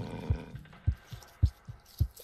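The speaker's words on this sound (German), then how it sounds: "Und Claire hat wieder ihren berühmt-berüchtigten Herzschlag." The heartbeat of the character Claire in the video game Claire sounds as a slow, soft double thump, four low beats evenly spaced against near silence.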